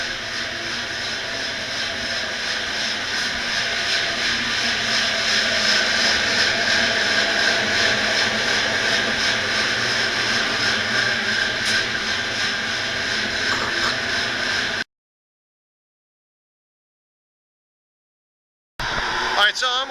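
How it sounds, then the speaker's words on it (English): Machinery running in a ship's engine room gives a loud, steady, dense roar with a low hum that holds for about fifteen seconds, then cuts to silence before a brief return at the end. "Engine room."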